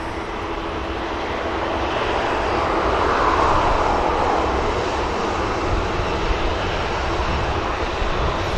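An Airbus A330 jet climbs away after departure from Manchester Airport, its engines a steady, loud broadband roar that swells slightly in the middle and holds throughout, with no talk.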